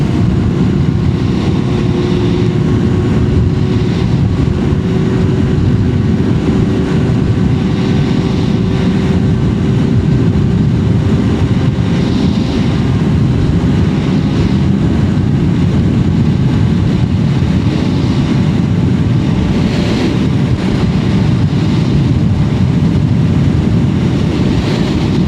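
BMW R nineT Scrambler motorcycle with a 1,183 cc engine cruising on the interstate, giving a loud, steady low engine drone mixed with wind roar that holds unbroken throughout, with no voices.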